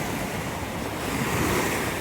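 Ocean surf breaking steadily on the eroded coastline at Hoi An, a continuous loud wash of waves with wind buffeting the microphone throughout.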